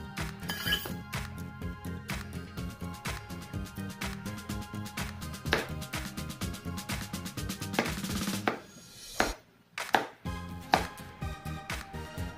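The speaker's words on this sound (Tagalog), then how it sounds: "Pwede nyo rin naman siyang i-chop na maliliit." A knife chops cooked eggplant into small pieces on a cutting board: rapid, steady, close knocks of the blade, a brief pause, then a few more scattered chops.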